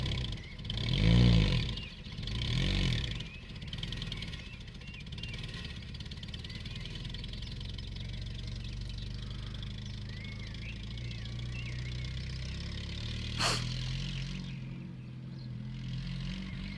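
A 1980 Land Rover Series 3 109 engine runs up close with a steady rough mid-pitched drone, opening with a couple of swelling revs before settling into an even idle, with a sharp knock near the end.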